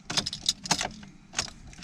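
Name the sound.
car key turned in ignition, dead battery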